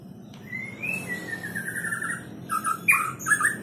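An oriental magpie-robin (murai batu) in a cage gives a clear, fairly close series of whistled chirps and sliding tweets, with quicker bursts near the end over soft background rustle.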